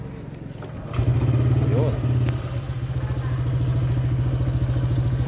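A Honda Click 125 scooter engine cranks and catches, then settles into a steady, rapid idle putter close by, with a brief word spoken over it.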